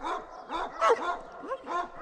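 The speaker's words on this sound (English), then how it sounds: "I'm here with a young Pyrenees named Winter." A young Great Pyrenees livestock guardian dog at a farm rescue gives a string of high, strained barks and yelps, about five in a row, close by and loud with no one talking.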